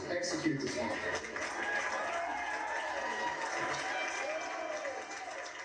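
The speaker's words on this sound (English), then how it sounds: "Big cheers from the crowd there." A crowd at a political gathering cheers and shouts in a sustained, dense roar of many voices, loud and continuous throughout.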